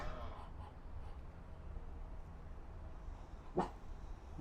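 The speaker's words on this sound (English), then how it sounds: "My dog." A dog barks and whimpers indoors, with a single sharp bark standing out near the end over steady room noise.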